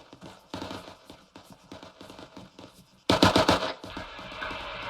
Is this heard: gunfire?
yes